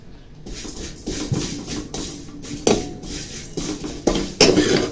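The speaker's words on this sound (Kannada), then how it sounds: "ಒಂದು ಪ್ಯಾನ್ ಇಟ್ಕೊಂಡಿದ್ದೀನಿ. 1 ಕಪ್ ಆಗೋಷ್ಟು ಶಾವಿಗೆ ಹಾಕೋತಾ ಇದ್ದೀನಿ ನಾನು" Dry vermicelli being roasted in a pan, with repeated scraping and clinking of a metal spoon against the pan in uneven bursts, close and fairly loud, no talking.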